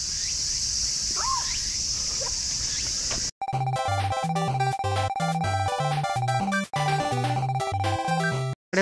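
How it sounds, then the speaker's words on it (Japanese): Cicadas on a wooded hillside path up to Uwajima Castle make a loud, steady, high buzzing drone for about three seconds, and then the sound cuts abruptly to rhythmic music. "セミがすごい鳴いてます。"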